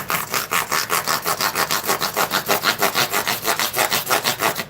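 Fine 600-grit sandpaper wrapped on a small body-shop squeegee spreader rubs back and forth over guitar frets, rounding them over in a steady rapid rhythm of close, scratchy strokes with no talk.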